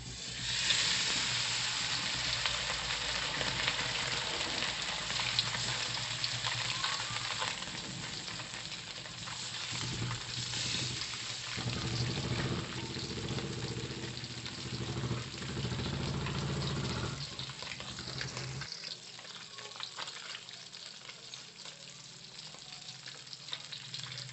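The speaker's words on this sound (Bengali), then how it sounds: "তেল গরম হয়ে গেছে এখন আমরা মাছগুলো ছেড়ে দেব আর মাছ ভাজার সময় কিন্তু তেলটা একটু ভালো গরম হলে ভালো হয়" Fish frying in hot oil in a wok, a steady loud sizzle running continuously with occasional stirring scrapes, easing off toward the end.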